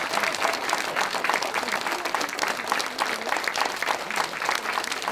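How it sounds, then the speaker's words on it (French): Lively audience applause at a cabaret show, dense clapping mixed with crowd noise, steady and fairly loud throughout with no distinct speech. "un bon public aurait applaudi maintenant"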